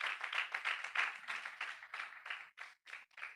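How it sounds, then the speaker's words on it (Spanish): A church congregation claps for the Lord in a quick, rhythmic run of separate claps, fairly faint, alone with no talk. "Aplauso fuerte al Señor"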